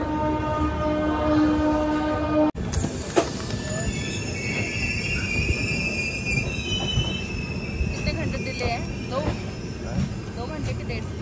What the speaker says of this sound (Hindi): तो 4 नंबर प्लेटफॉर्म से ट्रेन हो चुकी है अभी